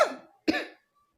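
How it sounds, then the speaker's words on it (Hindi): A woman coughs twice in quick succession, two sharp close bursts, each trailing off, with a brief silence between them and no talk. "मुझे खांसी हो रही है फिर भी मैं आपको पढ़ा रही हूँ।"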